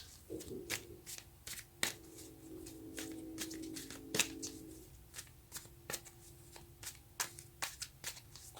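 A deck of tarot cards is shuffled close up, one quick riffle followed by a string of sharp card flicks and taps as cards are drawn, quiet and with no talking.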